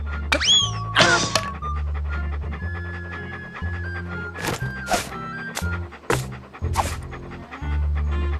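A dog pants in the Monkey Island 2 adventure game, rhythmic breathy huffs repeating over a looping chiptune-style soundtrack with scattered thunks and sharp game effects.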